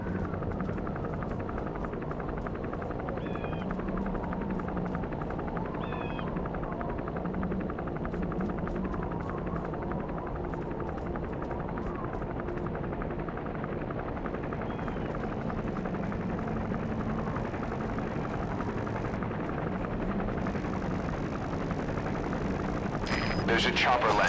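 A helicopter landing in the Metal Gear Solid V video game, its steady rotor and engine drone running continuously throughout at a fairly constant level, with voices and game sounds over it.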